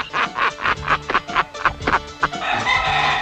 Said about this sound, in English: I got the finest 5-pound chicken alive, Jack.